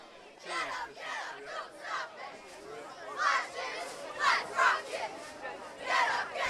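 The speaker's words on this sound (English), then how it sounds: "Sayville cheerleading squad keeping our crowd pumped up here this evening." High school cheerleaders for Sayville chant and cheer at an evening football game against Westhampton, voices rising in rhythmic bursts over a noisy crowd.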